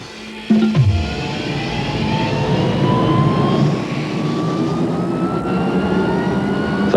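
Southwest Airlines jet airplane engines roar loudly and steadily at close range, with a rising whine layered over a broad rushing rumble after an abrupt start.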